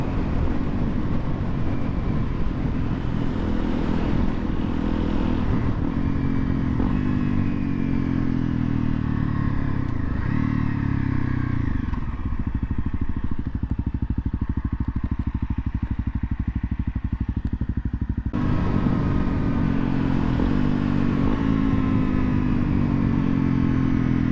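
A 2017 Honda CRF 250L, a 250cc dual-sport motorcycle, rides over potholes with a steady engine drone, rumbling wind and road clatter, and the engine note shifts as it moves along.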